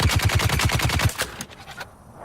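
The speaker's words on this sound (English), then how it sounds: "It sounded like I fired about 10 shots. I fired 80 shots." Rapid automatic gunfire in the Dune video game, a fast evenly spaced burst of loud close shots that stops abruptly, followed by a brief mechanical rattle and fading tail.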